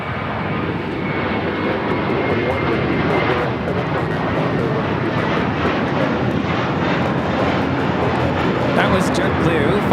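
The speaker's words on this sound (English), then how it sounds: "That was JetBlue 524 taking off to JFK on the A321." A JetBlue Airbus A321 takes off from LAX, its engines a continuous loud, broad roar that swells slightly as the jet climbs away, steady for the whole stretch.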